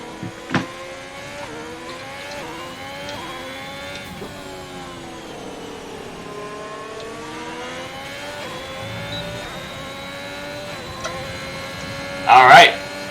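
Race car engine on a hot lap of the Hungary circuit in a racing video game, a steady rising and falling whine shifting through gears, with a brief louder burst near the end.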